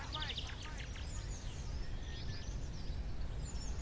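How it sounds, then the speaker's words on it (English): Small birds chirp and tweet in high, scattered calls over a low rumbling ambient bed in the Garry's Mod Murder game, moderately loud and continuous. "The birds chirping."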